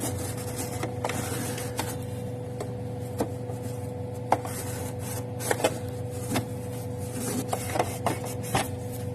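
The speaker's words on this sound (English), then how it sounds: "now clean up the printer and start. Let's take the print." A steady mechanical hum runs throughout, with regular faint clicks and brief whirs of a Canon PIXMA inkjet printer with a continuous ink supply system working through a page.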